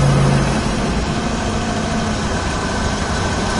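A 1971 Dodge Challenger engine running steadily, a loud, close, rumbling low drone with constant vibration and no voices.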